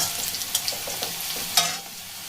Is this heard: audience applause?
no